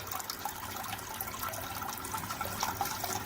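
Water runs steadily into a toilet cistern as it refills after the supply is turned back on, a soft, continuous rushing and trickling heard close up.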